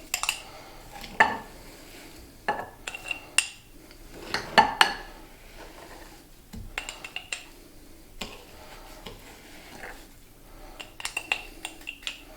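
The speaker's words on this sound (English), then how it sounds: "I'm using an old mason jar here, and I'm just gonna scoop it in." A spoon scoops sugar scrub into an old glass mason jar, giving scattered close clinks and scrapes of metal on glass between quiet pauses.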